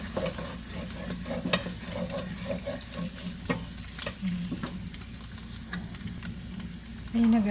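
Latik, coconut milk curds, frying and being stirred in a pan, a steady close sizzle with repeated scraping strokes throughout, no talk.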